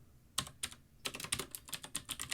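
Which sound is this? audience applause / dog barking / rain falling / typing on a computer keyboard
typing on a computer keyboard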